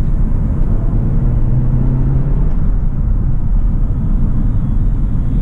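Skoda Octavia RS 245 driven in S mode, a continuous loud low engine drone and road rumble from inside the car, steady throughout with no talk.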